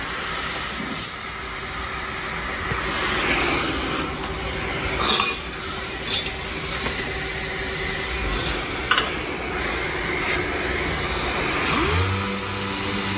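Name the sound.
dual-action sander with 80 grit sanding car bumper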